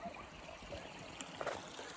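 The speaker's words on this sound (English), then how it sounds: "the water is still flowing from the tiles that I put in there" Water trickles from drainage tiles outdoors, a faint, close, steady babble with small splashy bursts throughout.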